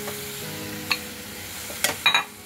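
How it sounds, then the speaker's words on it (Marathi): Masala fries in a pan for Goan Malvani chicken kheema, a soft steady sizzle broken by a few sharp scrapes and clinks of a spoon stirring against the metal. "ह्या सगळ्या आता परत व्यवस्थित परतून घेऊया"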